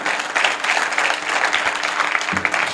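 A church congregation bursts into sustained applause, dense continuous clapping from many hands filling the room at steady loudness throughout.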